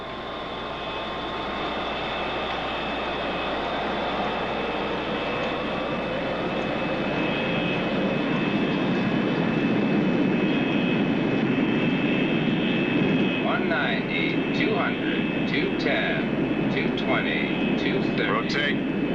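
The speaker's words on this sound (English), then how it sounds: "Maiden 1 cleared for takeoff." Supersonic jet airliner in a 1977 film starts its takeoff roll, a loud, steady engine roar building and holding for the whole stretch, with brief crackling bursts appearing near the end.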